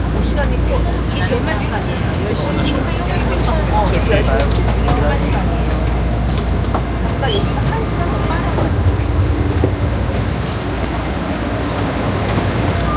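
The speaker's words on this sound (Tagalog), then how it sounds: "Sasakay na kami ngayon sa train ng Taiwan." A passenger train in Taiwan rolls along with a steady, loud rumble and low drone heard from inside the carriage, with people talking over it throughout.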